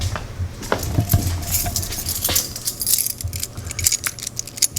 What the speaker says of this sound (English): Let me get rid of some of these keys.